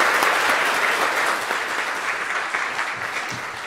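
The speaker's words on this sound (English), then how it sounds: "Can I please have a round of applause?" Audience applause at a London School of Economics event welcoming a visiting guest, a dense, steady roar of many hands clapping that stays loud throughout and tapers only slightly.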